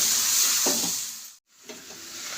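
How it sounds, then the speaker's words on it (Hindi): Baby shrimp frying with spices in hot oil, a loud steady sizzle with a brief stir-scrape, a sudden drop to near silence for a moment, then the sizzle resumes, no voices. "इसे मैं डाल करके मसालों के साथ थोड़ी देर फ्राई कर लेती हूँ।"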